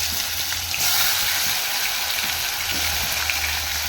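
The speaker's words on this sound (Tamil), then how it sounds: "கடுகு பொரிஞ்சிச்சு நம்ம இந்த கத்திரிக்காயை சேர்த்துக்கலாம்" Brinjal pieces hitting hot oil with popped mustard seeds for an oil brinjal kuzhambu, producing a loud, continuous hissing sizzle close up, steady for the whole stretch without any talking.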